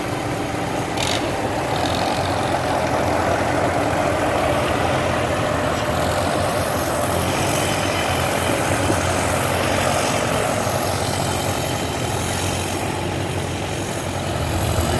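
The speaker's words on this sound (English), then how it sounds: "we have the very beginning of the tractor parade" Vintage tractors idle and rumble together at the start of an outdoor tractor parade, a continuous low, steady engine drone at moderate distance with no breaks.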